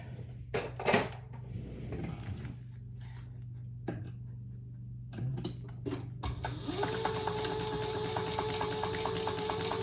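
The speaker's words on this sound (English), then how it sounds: "So now we're going to top stitch right along here." A sewing machine top-stitches a purse, a steady whirring motor run starting partway through after some handling clatter and quiet rustling nearby, with no talk.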